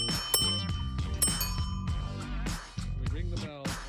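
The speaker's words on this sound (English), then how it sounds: "We ring the bell" A bicycle bell is rung in several quick bright dings, its metallic tones ringing briefly among other clattering sounds nearby.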